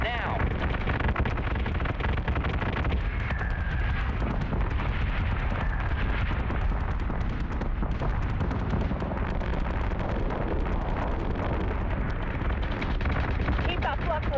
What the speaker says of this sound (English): Keep that flak wall up.